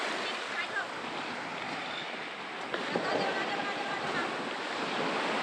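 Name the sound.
ocean waves on a white-sand beach at rising tide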